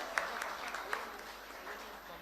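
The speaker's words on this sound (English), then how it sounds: "A big round of applause for them." Applause at a college competition valedictory ceremony for the third-place team: moderate, continuous crowd clapping at mid distance with a few sharper individual claps, and voices mixed in underneath.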